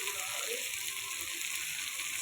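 Ivy gourd (dondakaya) pieces with turmeric and salt sizzle steadily in a frying pan, a soft continuous hiss with no breaks and no talking.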